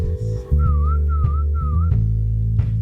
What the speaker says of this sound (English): hopefully people are hearing that whistle